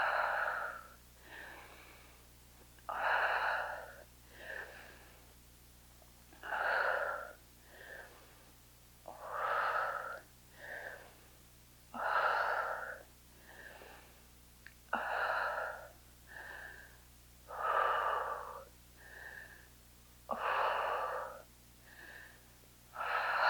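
Heavy, rhythmic breathing during a quad strength workout: sharp, forceful exhales and shorter inhales repeat at a steady pace, close and fairly quiet, with no talking.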